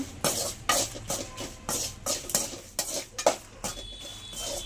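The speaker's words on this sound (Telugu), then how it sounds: "మనం ఈ పోపు అంతా దీంట్లోకి వేసుకొని మనం ఇవన్నీ మిక్స్ చేసేసుకోవాలి" Spiced puffed rice is stirred with tempering in a pan, with close, uneven metallic scrapes and rustling strokes of the spoon and a faint sizzle underneath.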